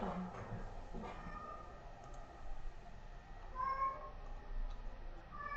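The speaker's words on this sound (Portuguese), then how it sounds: "Se vocês ouvirem um uivo, é meu gato." A pet cat that acts like a dog lets out drawn-out, wavering howls, somewhat distant and moderately loud, rising and falling over several seconds against a quiet room.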